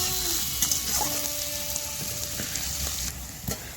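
Chopped onion fries in a pan with a steady close sizzle, broken by light scraping and knocking as a spoon stirs it around.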